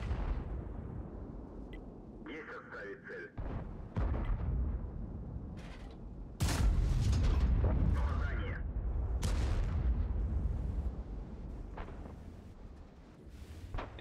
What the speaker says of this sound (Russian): звуки новые от арты